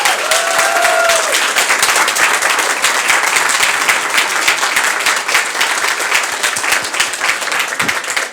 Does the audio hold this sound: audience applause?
yes